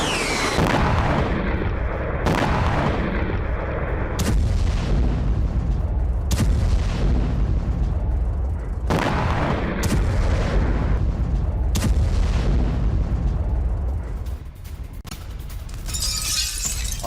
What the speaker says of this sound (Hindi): यूक्रेन ने रूसी टैंक उड़ा दिया।